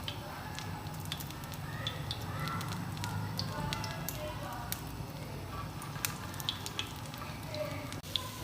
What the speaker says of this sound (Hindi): मीडियम लो फ्लेम पर इसको हम फ्राई करेंगे